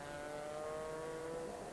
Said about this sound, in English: fires up the engine, and out he goes